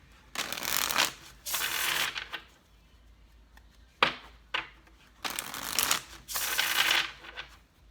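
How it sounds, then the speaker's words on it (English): A deck of tarot cards is riffled and shuffled up close in several loud bursts with quiet gaps between, including one sharp snap, with no talking. "This will be our last shuffle."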